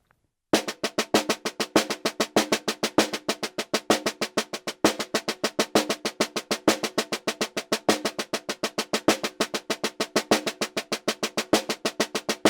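A snare drum plays paradiddle rudiments at a faster tempo, a dense, rapid run of crisp strokes with recurring accented hits, steady and unaccompanied.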